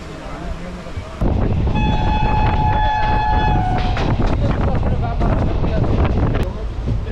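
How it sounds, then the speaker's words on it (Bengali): A local passenger train in India roars past close by, loud rumbling wheels with a sustained horn blast in the middle, under wind buffeting; a voice is briefly audible near the start. "জঙ্গিপুর থেকে ট্রেনটা ছেড়েছে।"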